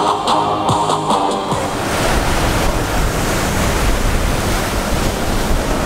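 Steady broadband roar of surf breaking and washing ashore on a Koh Samui beach in Thailand ahead of a storm, loud and continuous, with wind buffeting the microphone.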